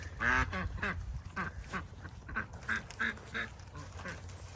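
Ducks in a backyard duck yard quack repeatedly in a busy, overlapping chorus, close and moderately loud, with a low outdoor rumble underneath.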